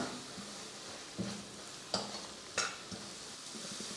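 A utensil stirs and scrapes spices and masala in a pan for egg curry with a soft sizzle, a few distinct clinks and knocks spaced through the steady frying hiss.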